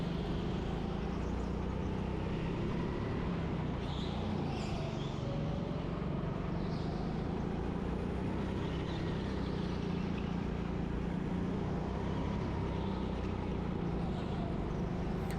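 Racing go-karts in a qualifying session at an indoor track in Birmingham, a continuous droning engine whine heard from on board, steady and unbroken with faint rising and falling pitch.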